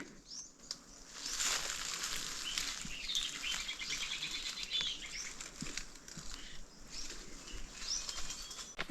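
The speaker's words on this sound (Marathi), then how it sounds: "पाखरांचा मस्त आवाज येतोय" Steady birdsong outdoors at Prachitgad hill fort in the Konkan, many small birds chirping and twittering at a moderate distance, with a faint rustle of movement underneath.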